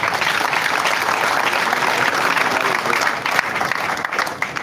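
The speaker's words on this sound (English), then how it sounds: "give a thunderous hand clap to our parliamentary team" A crowd gives thunderous applause for a parliamentary team at a political gathering, with dense sustained clapping throughout and some voices mixed in underneath.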